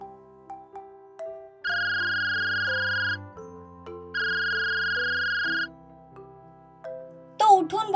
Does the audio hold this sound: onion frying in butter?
no